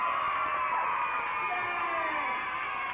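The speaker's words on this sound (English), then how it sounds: "Give him a big round of applause." Studio audience on a 1994 kids' geography game show breaks into steady, dense applause and cheering, a continuous wash of clapping with no talk over it.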